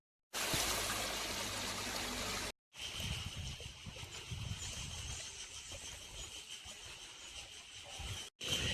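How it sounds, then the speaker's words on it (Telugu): Mountain water streams flowing near Gopeshwar temple in Uttarakhand, a steady broadband rush that starts loud and close, then continues as a softer, constant trickle and flow after a brief break. "ఇక్కడ వాటర్ వస్తున్నాయి"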